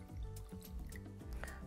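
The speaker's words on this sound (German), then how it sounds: "und lauwarmes Wasser kommt hier dazu" Lukewarm water poured into a small bowl holding yeast, a soft liquid trickle with gentle drips and gurgles, close up and faint, with no voices.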